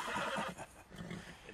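An Arabian horse in Red Dead Redemption 2 gives a fairly faint, drawn-out whinny with a wavering pitch over a steady game background.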